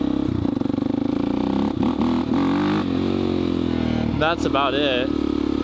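A motorcycle riding along, its engine droning steadily with revving swells, recorded close while a rider talks over it.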